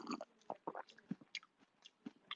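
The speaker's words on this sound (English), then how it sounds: "now we're going to have a big chunk of celery" Someone bites and chews a big chunk of raw celery at a party, with loud crisp crunches in an irregular rhythm, close to the mic.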